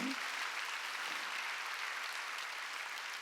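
A Korean church congregation at a Wednesday worship service claps together in dense, continuous applause that holds at an even, moderate loudness for a few seconds.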